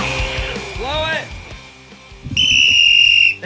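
A sports whistle gives a shrill, steady blast of about a second, close and loud, after voices talking and a sliding whistled tone. The talk stops just before the blast.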